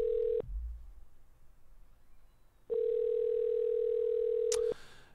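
An unanswered phone call in the video game OneShot: a steady electronic ringing tone sounds, pauses, then rings again in a long sustained burst before ending with a short click.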